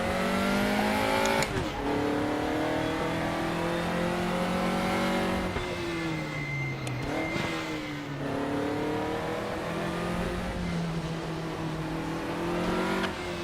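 A race car engine in the RaceRoom racing game revs high and drops pitch through repeated downshifts, with a steady in-car engine drone and sharp gear changes, loud and continuous.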